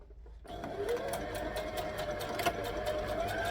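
A sewing machine stitches down the ends of a handmade library bag, a steady, close mechanical whir that starts abruptly after a short silence and runs evenly with a faintly rising tone.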